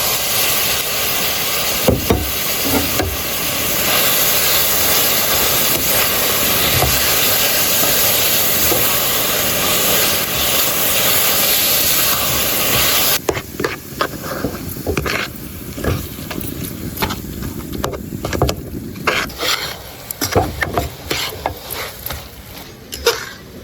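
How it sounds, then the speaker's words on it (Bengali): Boiled raw papaya added to hot caramel in a pan gives a loud, continuous steamy hiss that breaks off midway into quieter crackling and bubbling. "সিদ্ধ করা পেঁপে এবার ক্যারামেলের মধ্যে দিয়ে দেব।"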